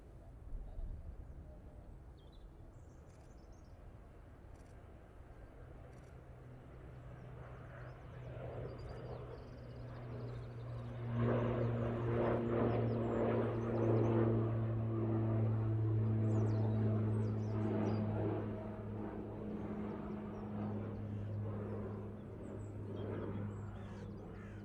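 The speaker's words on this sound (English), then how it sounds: "PC12, now on the roll." A Pilatus PC-12 turboprop begins its takeoff roll at Manchester Airport, with a distant engine drone that swells into a louder, steady propeller hum with a sustained low tone, heard over faint outdoor ambience.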